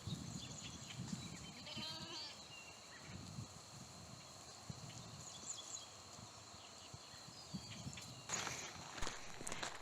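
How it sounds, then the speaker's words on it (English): A goat herd out by the road gives faint bleats amid soft hoof steps and rustling, with a low outdoor rumble throughout and a few sharper knocks near the end. "that is about, half of our goat herd out by the road"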